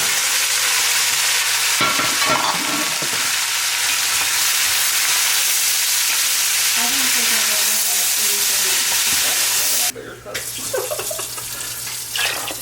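Soaked beans are stirred into a pan of sizzling oil and crispy garlic, giving a loud, steady frying hiss with scraping stir strokes, then a sudden drop and fresh bursts of crackle as the beans hit.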